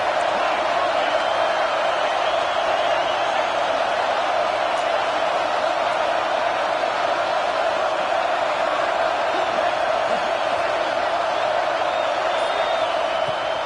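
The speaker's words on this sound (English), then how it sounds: "Decibels rising as the crowd gets behind this defense on third down." A football stadium crowd on third down gives off a steady, distant roar that holds at an even level throughout, with no sharp bursts of cheering standing out.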